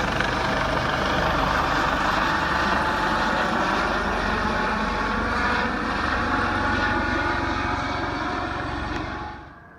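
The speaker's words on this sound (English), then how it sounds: "There's a helicopter searching for people that want to get landed." A rescue helicopter searches over floodwaters from Hurricane Harvey in southeast Texas, its engine and rotor making a steady, loud, throbbing roar throughout before it fades abruptly at the end.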